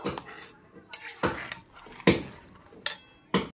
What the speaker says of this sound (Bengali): চিনি আর লবণটা খুব ভালো মতো মিশিয়ে নিচ্ছি।